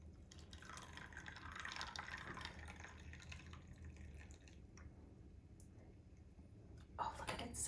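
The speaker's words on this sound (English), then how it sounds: "I made a nice, fresh, good tasting lemonade. And now we're going to pour." Butterfly pea flower lemonade poured from a container into a glass, a steady liquid stream trickling and splashing near the listener for several seconds, fading toward the end before a brief clatter.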